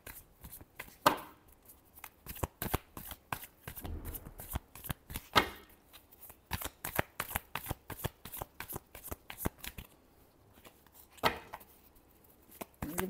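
Tarot cards are shuffled by hand in rapid riffles and bursts of crisp slapping and flicking, close-up and fairly quiet, with short pauses between bursts.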